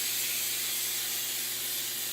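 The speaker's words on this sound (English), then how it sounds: "we're going to spray the cookie molds with a non-stick spray" Butter-flavour non-stick spray hisses steadily onto a silicone cookie mold, one continuous close aerosol burst lasting the whole stretch.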